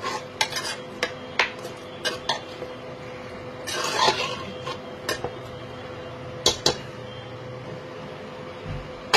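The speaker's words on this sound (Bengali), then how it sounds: "মিক্স করে নেবো আবার সব কিছু একসাথে" Daliya and water being stirred together in a pot, with a spoon scraping and clinking against the metal in a run of sharp taps and scrapes, close and moderately loud, with no talking.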